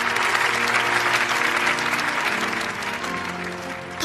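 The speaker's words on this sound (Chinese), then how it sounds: "现在我们再一次用热烈的掌声来祝贺今天的新人" Warm, sustained audience applause at a ceremony celebrating a newlywed couple, a dense, steady patter of many hands that holds at an even loudness and thins only slightly near the end.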